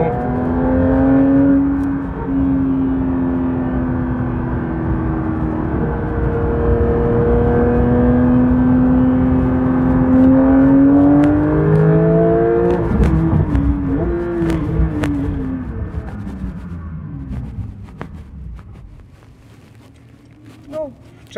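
A Porsche 911 GT3 engine runs close by, its tone climbing and falling as the revs change while the car moves through city streets, then settling down toward the end.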